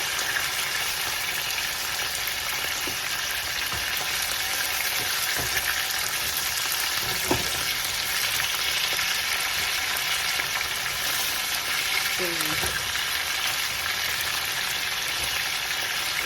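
Fish sizzles and crackles steadily in a hot pan for a stew, a constant close frying hiss with a few faint clinks and stirring sounds over it and no talk.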